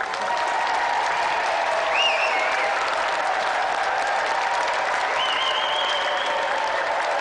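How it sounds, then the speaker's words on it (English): Sustained studio-audience applause for a game show contestant, dense and steady throughout, with a few whoops rising above the clapping. "let's have another round of applause for tonight's competitor, Nick Capel!"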